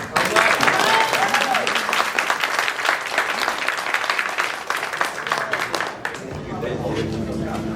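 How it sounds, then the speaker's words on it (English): An audience at a Newark storytelling event applauds a speaker with loud, sustained clapping and some cheering. The applause fades after about six seconds and a voice talks over a low hum. "give Zaire another round of applause"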